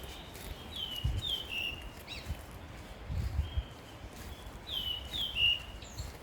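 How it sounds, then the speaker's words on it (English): Birds chirp in short, scattered bursts, fairly faint and distant, over low rustling and a few soft thumps outdoors in Pucón, Chile. "Can you hear the birds?"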